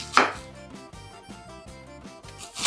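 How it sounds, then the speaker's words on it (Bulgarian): A knife taps rapidly and evenly through leek on a cutting board, finely chopping it with a quick steady rhythm of crisp, close knocks, plus a sharper scrape at the start and end. "Първото, което ще направя е да нарежа много наситно."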